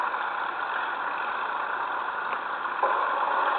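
A steady, droning engine of a Tupolev SB-2 bomber in War Thunder idles continuously at an even pitch, with a slight shift in tone near the end; no voices.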